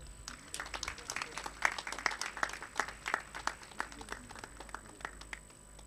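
A small audience claps at a student records digitization launch event, sparse individual claps standing out in a fairly quiet room, moderately distant and continuing evenly throughout.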